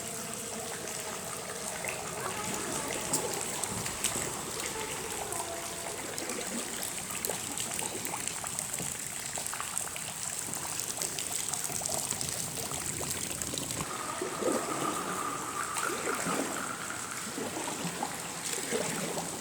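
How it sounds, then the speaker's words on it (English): Water from a natural spring trickles and drips steadily inside a flooded underground limestone mine in Kentucky's Red River Gorge, a continuous watery wash with faint scattered drips echoing throughout. "The water you hear dripping is from the natural spring."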